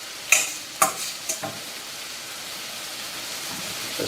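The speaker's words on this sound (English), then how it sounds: "Going to put my pasta in there." Warm cooked pasta tipped into a pan and stirred with the heat off, giving a few sharp clattering scrapes in the first second and a half, then a quiet steady background hiss.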